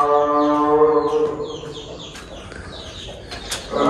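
A farmyard hen with three small chicks clucks loudly and close by in drawn-out, throaty calls, followed by quieter clucks and chirps, with a brief burst of calling near the end.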